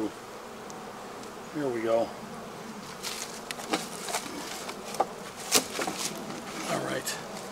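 Honeybees buzz steadily around a beehive during winter preparation, with robbing activity at the hive fronts; a close, continuous drone runs throughout while a person speaks briefly over it.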